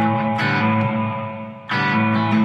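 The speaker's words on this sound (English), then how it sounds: "So that first one is a room reverb." Room reverb on a Blackstar ID:CORE Stereo 20 V3 guitar amp, heard as two sustained guitar chords, each struck and left ringing with a short ambient tail, fairly loud and alone.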